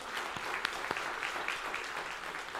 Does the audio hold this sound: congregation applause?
yes